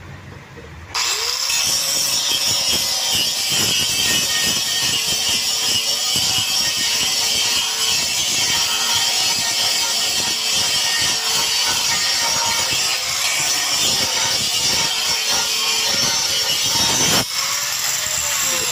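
An angle grinder cuts steadily through a rubber gate seal mold for a dam gate, a loud continuous whir with abrasive rasping that starts about a second in and runs unbroken almost to the end.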